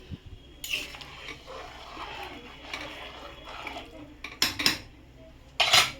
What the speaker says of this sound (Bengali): তো নুনটা দিয়ে একটু নেড়ে নিলাম।